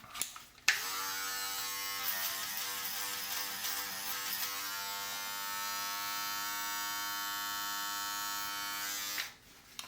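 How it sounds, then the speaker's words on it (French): A Braun electric razor runs steadily for nearly ten seconds, a close, loud, even buzz with a sharp start and stop. "j'ai mon rasoir électrique qui doit être juste par là"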